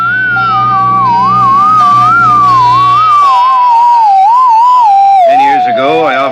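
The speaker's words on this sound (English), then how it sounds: "probably some ham operator jamming the channel, sir." A wavering radio jamming whistle from a radio drama warbles up and down in pitch continuously, loud and close, over a low hum that drops out midway, then turns more erratic with extra tones.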